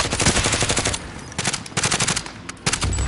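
Rapid automatic gunfire in the battle-royale shooter Warzone, loud and close, coming in dense bursts with brief gaps across the whole stretch.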